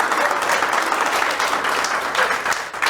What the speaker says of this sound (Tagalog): Sabay-sabay na palakpak, malakas.